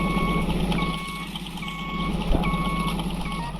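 A car in the Car For Sale Simulator video game gives regular reversing beeps while parking. The evenly spaced tones sit over a steady engine hum, with one brief bump partway through.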